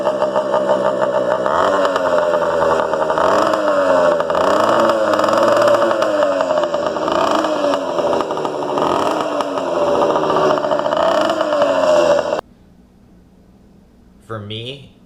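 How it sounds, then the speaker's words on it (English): Car engine running on E85 fuel, a steady mid-pitched idle with wavering tone that continues loudly for about twelve seconds, then cuts to near silence before a brief noise at the end. "finally it'll just start to idle by itself until it's really, really, really warm"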